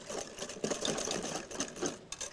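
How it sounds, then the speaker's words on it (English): Brownie batter with dissolving sugar whisked briskly by hand in a bowl, a dense, rapid, continuous rhythmic clatter heard up close without speech. "So we're just gonna whisk this pretty well."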